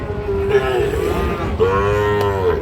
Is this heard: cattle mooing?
yes